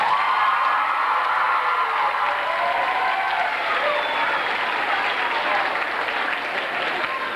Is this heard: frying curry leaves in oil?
no